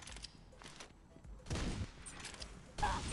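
Gunfire in the mobile shooter Pixel Gun 3D, with bursts of rapid shots in short clusters, two louder volleys standing out against quieter in-game noise.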